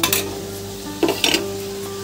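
Grated paneer goes into a pan of cooked masala for paneer bhurji: a utensil scrapes and clinks against the pan several times over a steady, close sizzle and kitchen hum.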